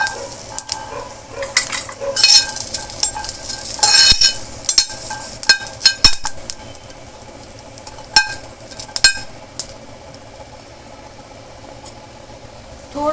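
Green chillies are roasted with brinjal in a pan, with clinks and scrapes of a utensil stirring against the metal and a light sizzle, in irregular bursts under brief background voice.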